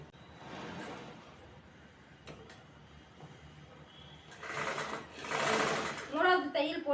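Sewing machine stitching a blouse seam a quarter inch in from the armhole, short runs of rapid mechanical whirring separated by pauses, with someone talking between bursts.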